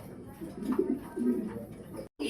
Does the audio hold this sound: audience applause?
no